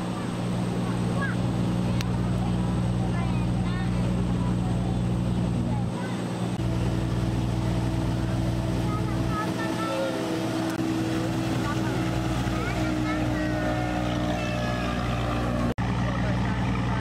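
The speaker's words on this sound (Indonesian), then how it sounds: "itu kita berpapasan dengan perahu kecil." A small boat passes on a Surabaya river during a boat tour, a steady low motor drone running throughout with water and ambient noise, and people talking over it.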